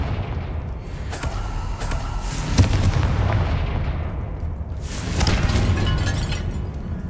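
Confringo fire spell explosions in the game Hogwarts Legacy, heard as a dense, roaring barrage of booms and crackling blasts that rises and falls over several seconds, loud and continuous.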